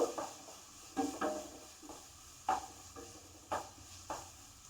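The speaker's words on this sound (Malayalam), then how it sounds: "അതിൻ്റെ ഒപ്പം നമുക്ക് പച്ചമുളകും കൂടി അങ്ങോട്ട് ഇട്ട് കൊടുക്കാം" Green chilies dropped into a frying pan and stirred while cooking butternut squash, with soft scraping spoon strokes and light knocks recurring every second or so, faint and close with a quiet background hum.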